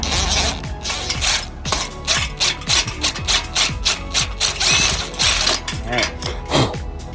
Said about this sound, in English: The final screw in the whole fence.